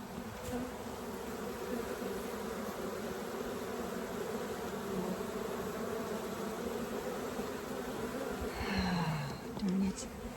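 A dense, steady buzz of honey bees fanning inside a full Layens swarm trap, loud and continuous throughout, with a brief shift in pitch near the end.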